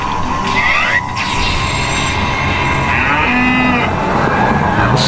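Cows lowing in a loud, continuous bellow that fills the whole span, with no talk over it.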